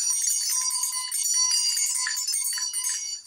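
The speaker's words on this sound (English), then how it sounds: "If you hear the bells jingling," Bells jingle in a steady, bright shimmer for a few seconds, fairly loud and close, with no talking over them.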